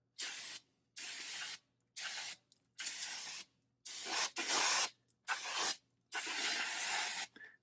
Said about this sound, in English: spray a bit of brake cleaner in here